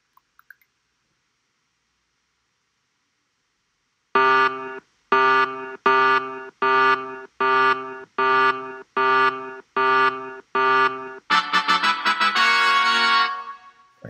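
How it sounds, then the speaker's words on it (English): A LEGO Spike Prime hub plays an electronic alarm: eight evenly spaced buzzing beeps in a steady rhythm, then a longer harsh rattling burst, loud and close with no voices. "there's an alarm going"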